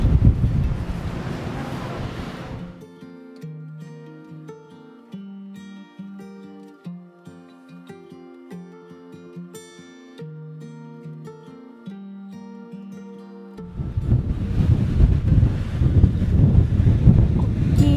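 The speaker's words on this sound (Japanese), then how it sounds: "うわ、風が寒っ。" Strong wind buffets the outdoor deck of the ferry Kyoto at night on the Osaka to Shinmoji crossing, a loud blustery roar at the start and end with a soft melodic tune playing in the calmer stretch between.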